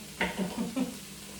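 Minced garlic hitting a hot pan for vegan Thai cooking, a few short sizzling and stirring bursts, close and fairly quiet.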